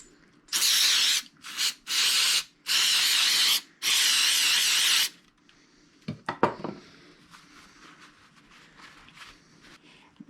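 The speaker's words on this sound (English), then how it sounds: "Give it one more little spray down." Several loud hissing bursts of a spray nozzle on Honda BF150A outboard motor lower-unit parts, each lasting about a second, followed by clinks and scraping of metal parts.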